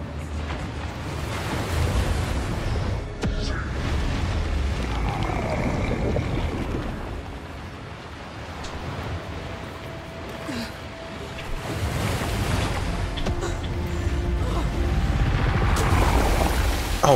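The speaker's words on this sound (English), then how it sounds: "The storm is too strong." Stormy wind and crashing waves in Hellblade II roar in broad, surging washes that swell and ease over the span, loud and enveloping, with no talk.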